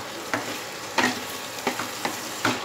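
Boiled new potatoes stirred into cooked masala in a pan, a few soft scraping clicks and thuds from a spoon spaced irregularly over a low, steady sizzle, close and fairly quiet.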